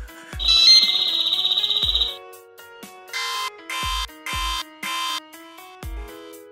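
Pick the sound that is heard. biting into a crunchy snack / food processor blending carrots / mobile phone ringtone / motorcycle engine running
mobile phone ringtone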